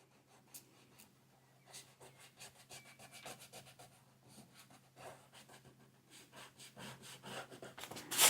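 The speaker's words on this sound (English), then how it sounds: "I will just go in with my eraser and clear this up" An eraser rubs out pencil lines on watercolor sketchbook paper, making faint, quick back-and-forth scrubbing strokes in a steady rhythm that grow a little louder toward the end, close to the listener in a quiet room.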